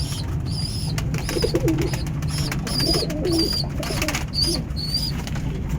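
Pigeons feed with their young, giving soft, repeated throaty coos under a steady background hum, mixed with high, thin chirps that come in quick bursts throughout.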